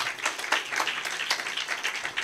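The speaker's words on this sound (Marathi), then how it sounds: "जोरदार टाळ्या" Loud applause from a church congregation during a sermon, dense continuous clapping from many hands filling the room, no voices.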